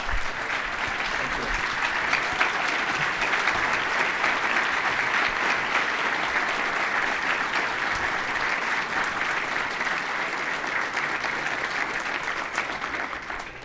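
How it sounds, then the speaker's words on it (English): Sustained audience applause fills a charity gala evening program, a dense, steady wash of many clapping hands at an even loudness that holds for the whole stretch without talk. "Let's give a round of applause for Jacob."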